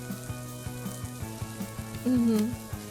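Burger patties frying on a fast-food kitchen grill in Fast Food Simulator, a steady close sizzle broken by regular clicking ticks and a brief rising tone near the end.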